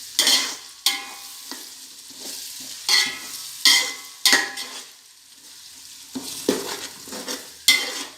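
Ginger garlic paste frying in a pan while being stirred, a soft sizzle under repeated sharp scrapes and taps of a spoon against the pan in irregular bursts.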